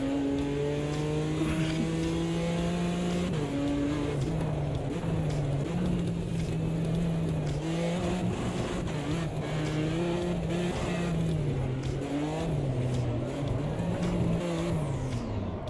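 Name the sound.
BMW drifting with traction control off, video game AMS2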